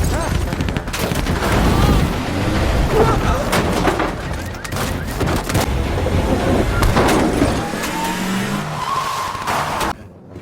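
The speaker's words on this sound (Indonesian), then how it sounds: "Namun, Tibu terkena tembakan yang sangat fatal." Tires squeal and an engine roars while sharp bursts of gunfire crack amid the chaos, loud and close, before cutting off abruptly.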